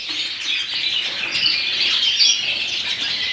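Mule redpoll cock birds in a flight cage twitter and chirp continuously in a busy, high-pitched chorus, close by, with some faint wing movement and no speech.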